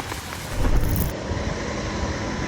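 Rain falls steadily in Tagbilaran City, Bohol, during storm Basyang, a dense, continuous broadband hiss and rumble with no voices and no breaks.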